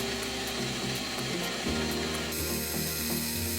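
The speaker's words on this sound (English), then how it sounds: "I'm using a spotting drill to remove most of the metal first" A spotting drill cuts into metal on a milling machine, a steady loud mechanical grinding and whirring with a ratcheting texture that shifts in pitch partway through.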